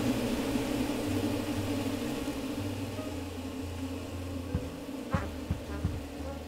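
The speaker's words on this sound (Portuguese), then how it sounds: "Um enxame de abelhas." A swarm of bees drones with a steady buzzing hum inside a horror game set in a strange hotel full of anomalies, with a few faint clicks near the end.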